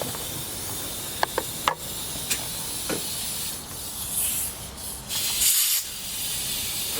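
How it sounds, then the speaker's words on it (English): An air hose hisses steadily while inflating Jeep tires, a close, continuous rushing with a few short clicks and brief louder bursts of escaping air, no voices. "right now we're putting air in the tires"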